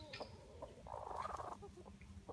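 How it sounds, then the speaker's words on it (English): Polish chickens cluck and squawk nearby in a farmyard, a bird being chased giving a short burst of agitated calls that swells to a louder squawk in the middle and then trails off. "chasing these Polish chickens"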